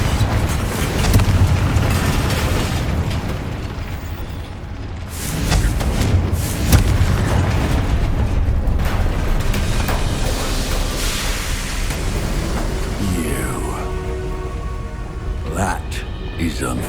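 The Confringo fire spell in the Hogwarts Legacy video game bursts with heavy booming explosions amid rumbling game sound and music, with a deep blast near the middle and crackling debris afterward.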